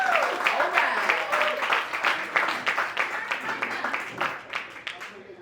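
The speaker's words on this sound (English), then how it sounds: "Let's get a round of applause, please." Applause from a small crowd at a crypto meetup in San Juan, scattered, uneven claps with voices mixed in, fading toward the end.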